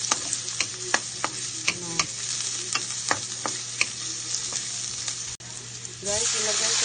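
Chayote vegetables sauté in a pan with a steady close sizzle, punctuated by regular sharp clinks and scrapes of stirring, and the frying grows louder near the end.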